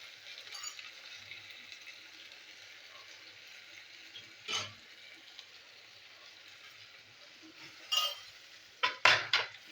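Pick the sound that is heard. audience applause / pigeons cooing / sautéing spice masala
sautéing spice masala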